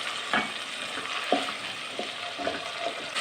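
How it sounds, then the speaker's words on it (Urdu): Ginger garlic paste frying in ghee with onions in a pan for a daal, chana, spinach and fenugreek dish, giving a steady close sizzle with a few scrapes of stirring and no talk. "اب اس میں ناظرین ہم ڈالیں گے 1 چمچ ادرک لہسن کا پیسٹ اور اس کو بھی تھوڑا سا گھی میں بھونیں گے"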